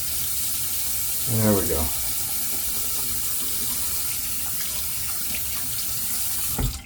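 Tap water runs steadily into a bathroom sink for face wetting, a constant close rushing hiss with some splashing near the start and a brief voice heard under it.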